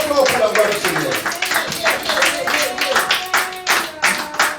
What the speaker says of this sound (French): Acclamons encore trop fort pour la gloire du Seigneur